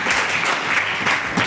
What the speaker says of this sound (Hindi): अच्छा ये तालियां क्यों बजी हैं?